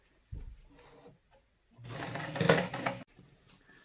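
Sewing machine stitching a loop into a strap, with a short burst near the start and then a sustained two-second run of stitching that ends abruptly, close and fairly loud.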